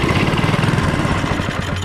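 An old petrol engine on a cement mixer runs steadily on fuel poured straight into the carburettor, a loud, continuous rattling chug with a fast uneven beat throughout, and no voices.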